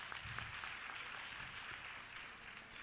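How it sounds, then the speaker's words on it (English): Audience clapping at a youth empowerment launch event, a steady dense wash of hands that stays loud and even for a few seconds with a faint voice briefly underneath. "Let's give him a round of applause."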